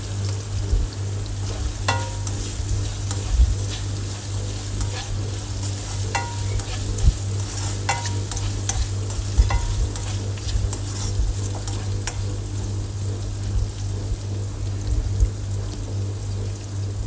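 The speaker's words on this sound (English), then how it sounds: "saute it until it is cooked properly" Chopped capsicum or green pepper sautés in a hot skillet for an egg masala. A steady close sizzle runs throughout with scattered clicks and scrapes from stirring, over a constant low hum and with no talking.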